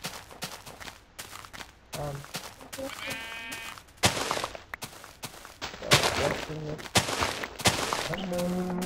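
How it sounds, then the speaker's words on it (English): Sheep bleat repeatedly in the Minecraft hardcore world, several short wavering calls spread across the scene amid game sounds, footsteps and brief bursts of other effects. "Sheep."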